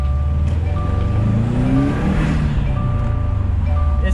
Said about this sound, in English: It sounds like I got a blow-off valve, but I don't, you guys.